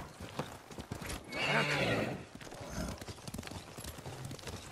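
A summoned horse in the video game Ghost of Tsushima, in a snowy area, neighs loudly once while its hooves clip-clop in a steady galloping rhythm throughout, close and clear with no talk.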